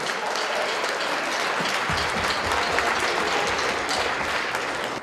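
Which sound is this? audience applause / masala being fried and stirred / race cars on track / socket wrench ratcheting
audience applause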